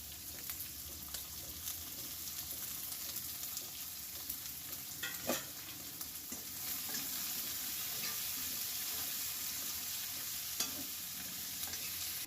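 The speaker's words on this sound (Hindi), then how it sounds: "प्याज ला बढ़िया से हरा कलर हो तक के भूनबो।" Onions frying in a pan for a Chhattisgarhi bada kadhi dish, a continuous hiss of sizzling oil with occasional scrapes of a spoon stirring them, steady and close.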